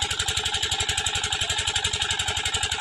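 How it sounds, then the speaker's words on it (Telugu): An engine pumps water out of a fish pond into a nearby canal, chugging in a fast, even rhythmic pulse close by, loud and steady throughout. "ఆ ఇంజిన్ ద్వారా వాటర్ అన్నీ పక్కనున్న కాలువలోకి పంపించేస్తున్నారు"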